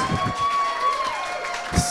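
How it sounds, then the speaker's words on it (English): Audience at a live tech podcast show applauds and cheers, a brief burst of crowd clapping and whoops with some voices mixed in, rising near the end. "Give him a round of applause."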